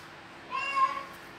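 A single short cat meow, faint and clear against a quiet background.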